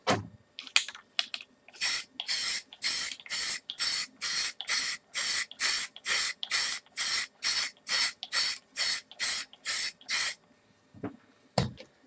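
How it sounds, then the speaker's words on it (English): Aerosol spray paint on a miniature model, about twenty short even bursts of loud hiss in a steady rhythm, each roughly a third of a second, with a few clicks before and after. "So we're going to go ahead and start painting."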